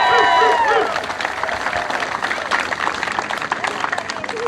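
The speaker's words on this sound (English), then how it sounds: "So, give him a round of applause." A crowd at a downtown Fremont parade celebration for Ethan Green claps and cheers in a dense, continuous burst that is loudest at the start and holds steady, with voices mixed into the noise.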